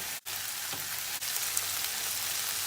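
Potatoes tipped into a frying pan of softened tomatoes and onions, a steady hissing sizzle throughout with a couple of brief dips and clicks as they go in.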